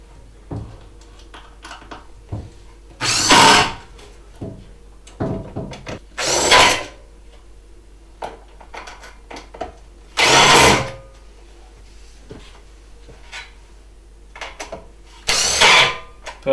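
A power drill drives screws into metal support brackets of an attic storage floor in short loud whirring bursts, four main runs spaced a few seconds apart, with light clicks and handling knocks between them.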